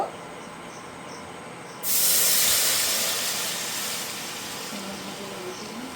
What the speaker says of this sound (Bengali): এবার এই ফাঁকা কড়াইতেই আমরা জল দেব।